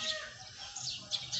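A rooster calls outdoors on an early morning walk in a Nepali village, fairly distant and mixed with other bird chatter over a low background murmur.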